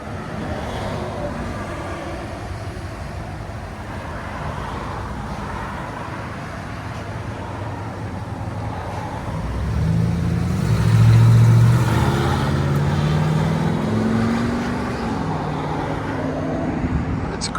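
An old Ford F-250 XLT pickup with a straight-piped exhaust and high-flow catalytic converters idles with a low, fairly quiet rumble, then revs up to a deeper, louder burble for a few seconds before easing back.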